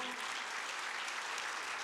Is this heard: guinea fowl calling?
no